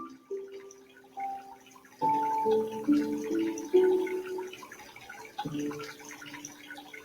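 Water drops fall and plink in an irregular pattern, each drop a clear ringing note. Some land alone and others cluster together against a quiet background.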